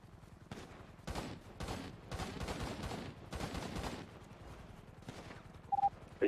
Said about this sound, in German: Bleib stehen oder ich schieße!